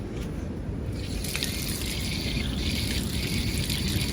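Water sprays steadily onto overwatered, yellowed grass outdoors at a house in Antique, Philippines, a continuous close hiss and patter that holds evenly throughout.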